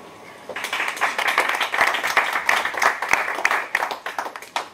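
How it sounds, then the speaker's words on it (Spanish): An audience applauds after a poem reading, many hands clapping together in a warm, steady burst that starts suddenly and carries on for several seconds. "Lo digo por si os aburrís de aplaudir cada vez que termine de leer."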